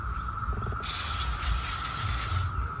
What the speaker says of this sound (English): And just spray them off.